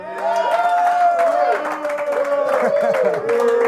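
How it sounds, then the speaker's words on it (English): A studio audience in South Africa, at a soccer talk show taping with the U.S. captain, cheers and claps loudly with whoops and shouts throughout, while voices ring out over the crowd. "That is the biggest cheer we've had from our studio audience thus far in South Africa."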